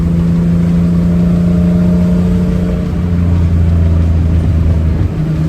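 A vintage Nissan engine, from a Skyline Hakosuka or Fairlady Z, drones loud and close with a steady low hum while driving, with no talk over it.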